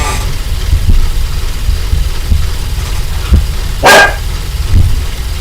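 A house dog named Chiron lets out one sharp, loud bark near the mic after a stretch of quiet, low background hum, with no talking.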